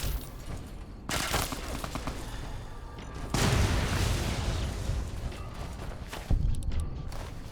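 Gunshots and blasts in Fallout 3 and New Vegas roar close and loud in a few heavy bursts, with sustained crackling rumble between the sharp onsets.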